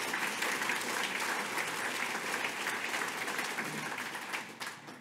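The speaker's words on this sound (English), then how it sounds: "give that a round of applause" A roomful of Calgary Chamber of Commerce attendees gives sustained, dense applause at an economic address, holding steady before tapering off toward the end.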